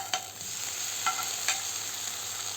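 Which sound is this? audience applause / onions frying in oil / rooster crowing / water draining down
onions frying in oil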